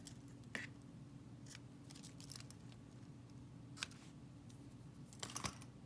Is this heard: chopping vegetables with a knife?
no